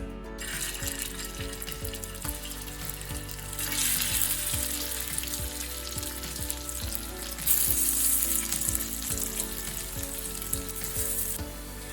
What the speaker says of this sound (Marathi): त्यांना आपल्याला तव्यावर थोडं तेल टाकून शॅलो फ्राय करून घ्यायचं